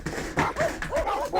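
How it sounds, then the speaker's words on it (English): Dogs bark and whimper behind a door, close and loud in quick, overlapping yelps and whines. "Boy, you got dogs"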